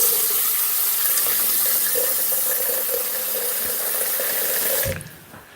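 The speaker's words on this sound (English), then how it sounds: "I will add some water to help with the blending process." Water runs steadily from a kitchen tap for about five seconds while being added to homemade hot sauce ingredients for blending, then cuts off abruptly near the end.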